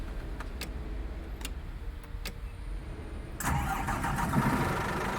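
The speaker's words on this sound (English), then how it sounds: "Start the engine" A coach bus engine in the Fernbus driving simulator game cranks with a few faint clicks, then catches and settles into a steady rumbling idle.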